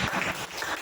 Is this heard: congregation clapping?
yes